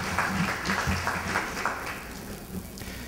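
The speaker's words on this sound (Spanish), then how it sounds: "Un aplauso para él, por favor" A fairly soft patter of applause from an audience at a youth council recognition ceremony in Miraflores, uneven and thinning toward the end with no voices over it.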